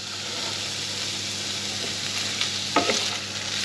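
Sausages sear in a hot frying pan with a steady, close sizzle throughout, and a brief clatter of stirring near the end.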